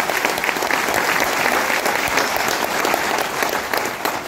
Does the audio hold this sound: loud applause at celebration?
yes